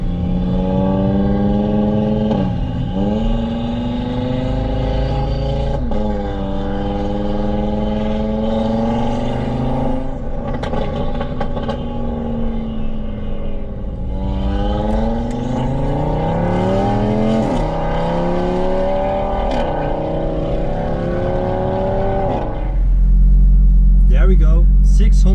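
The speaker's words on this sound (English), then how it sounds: "today we are with this TTRS with 660 horsepower" A 660-horsepower Audi TT RS engine revs and accelerates hard. Loud rising tones climb repeatedly through the gears, and a heavy roar builds near the end.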